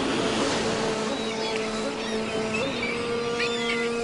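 A fishing boat's engine runs at sea, a steady droning rumble with a faint tonal whine, heard alongside wind and water wash with no clear talk.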